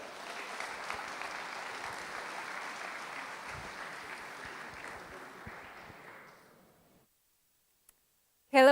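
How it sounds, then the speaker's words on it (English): Sustained audience applause for a speaker at an entrepreneurship talk, a steady wash of many hands that gradually fades to silence, followed by a brief sound at the very end. "So give her a big round of applause."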